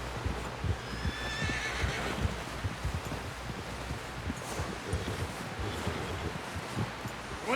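A horse in Red Dead Redemption 2 gives a brief high whinny near the start, over a steady bed of clip-clopping hooves and wind-like rustle that continues throughout.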